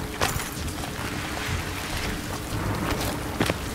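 Steady rain falls in the first-person shooter Battlefield 3, a soft, even patter with a few sharper crackles and low rumbles, moderately quiet and unbroken by talk.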